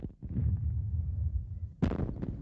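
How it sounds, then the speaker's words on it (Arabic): Artillery fire in an Arabic-language wartime TV drama: a rolling, low booming rumble that carries through most of the stretch, followed by a sharper, louder blast near the end, with no talk over it. "هاي مدفعية باش."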